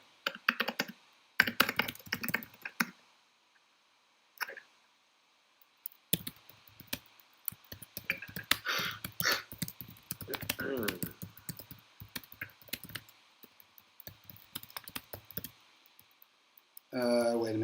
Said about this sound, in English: So I'm typing now.